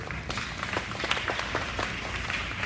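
An audience at a keynote lecture breaks into sustained applause, a steady wash of many hands clapping at moderate distance with a few sharper individual claps standing out.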